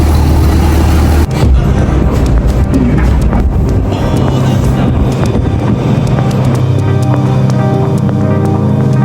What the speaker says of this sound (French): Je suis dans la voiture